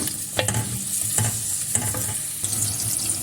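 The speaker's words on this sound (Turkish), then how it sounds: "İlk önce üzerine havuçları ilave edip 1-2 dakika soteliyorum." Carrots sautéing in a generous amount of oil in a pot, a steady close sizzle broken by repeated scraping stirs, with no talking.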